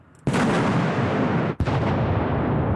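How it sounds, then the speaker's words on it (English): A tin packed with steel ball bearings and gunpowder detonates outdoors among rocks at bounding-mine height, giving a huge, close blast with a long roaring tail and a sharp second crack partway through. "The force of the explosion sends the steel balls through our soldier and into the rock beyond"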